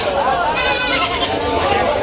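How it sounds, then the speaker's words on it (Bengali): Goats bleat in a herd at a busy cattle market in Keraniganj, their calls rising over a constant crowd murmur, with people talking nearby. "ছাগলের পাল।"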